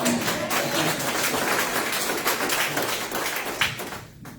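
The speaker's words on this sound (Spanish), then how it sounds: "dele un aplauso al Señor." A church congregation breaks into sustained, crowd-wide applause, a dense wash of many hands clapping at once that holds steady throughout, with a brief louder burst near the end before it thins out.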